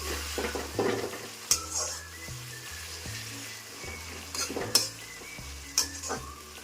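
Spice masala for chicken frying in a pan, a soft continuous sizzle broken by repeated scraping strokes of a spoon against metal, with several sharp clinks standing out, close and fairly quiet.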